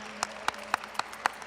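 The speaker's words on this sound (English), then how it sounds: "Give an applause for them." A few sharp, separate claps ring out at a Native American Heritage Night celebration, about five distinct hits in quick, slightly uneven rhythm, close and crisp against a quiet room with a faint low hum.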